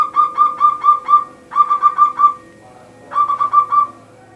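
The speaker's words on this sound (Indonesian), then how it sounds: "Burung perkutut Ya, jenengan tuh bunyi itu ya." A zebra dove (perkutut) coos in rhythmic bursts of rapid, clear, tonal notes, three phrases separated by short pauses, near and distinct with no talk.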